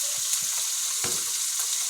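Fish frying in a pan gives a steady, close hiss of sizzling oil with a few soft knocks and stirring sounds, no talk.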